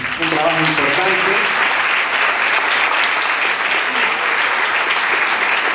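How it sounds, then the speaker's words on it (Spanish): Loud, steady applause from the audience at a municipal music school bolero concert, with brief voices under the clapping at the start before the crowd noise continues evenly. "Para todos, un fuerte aplauso"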